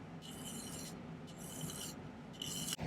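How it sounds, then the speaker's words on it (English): A metal file rasps across the end of silver wire in a jewellery-making setting, with three distinct strokes of gritty scraping, each lasting under a second, close and clear with no talk. "let's file the end first"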